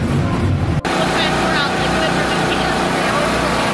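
A NASCAR stock car engine idles at Rockingham Speedway with a loud, steady, close rumble, and a voice may briefly speak over it.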